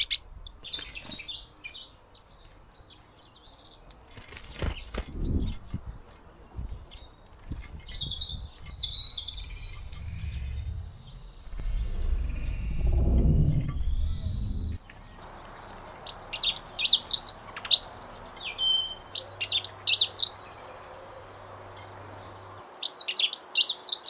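Garden birds chirp in sharp, scattered bursts that grow busier toward the end, along with faint rustling and handling sounds from nearby.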